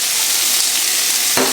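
Peppers and onions, seasoned with garlic powder, sizzle and fry in a pan for a sausage and pepper hoagie, a steady close hiss with light stirring and no talk.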